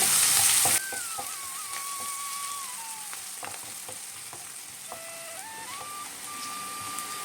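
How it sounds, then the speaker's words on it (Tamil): Chopped large onion frying with cashews in a pan for tomato rice premix: a constant, close, dense sizzle runs throughout, with a faint steady tone drifting in the background and no talking. "ஒரே ஒரு வெங்காயம் பெரிய வெங்காயம் கட் பண்ணி வச்சுருக்கேன் இதை சேர்த்துப்போம் இது நல்லா ப்ரௌனாக வதங்கட்டும்"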